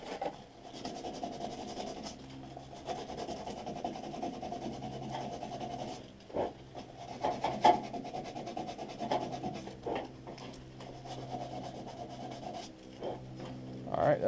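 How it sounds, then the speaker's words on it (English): Sandpaper rubbing back and forth on a pickup truck frame to strip paint, repeated scratchy strokes at close range, fairly quiet with occasional knocks. "we're going to sand off the paint so we get a good ground"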